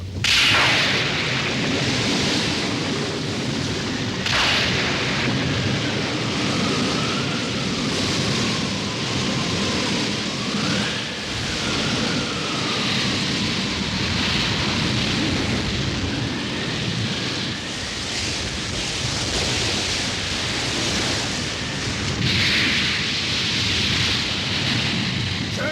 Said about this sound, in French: Tempête en vue, tout le monde à son poste!